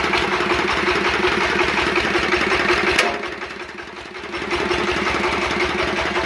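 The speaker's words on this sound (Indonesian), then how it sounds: "stasioner ya stasioner masih stasioner untuk diesel 12" A stationary diesel 12 engine drives a homemade dowel machine, idling with a steady, rapid thumping pulse close by. The pulse dips quieter for a moment partway through, then returns to its earlier level, with no speech.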